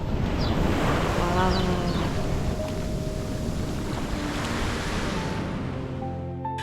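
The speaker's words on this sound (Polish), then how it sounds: "Ale dźwięk fal jest przerażający trochę." Ocean waves crashing onto the shore on Lombok, a loud continuous roar of surf and rushing water with wind buffeting, slowly easing toward the end.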